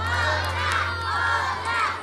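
A crowd at a young girl's live cover performance shouts and cheers for another song, a loud, sustained chorus of voices filling the whole stretch with no break.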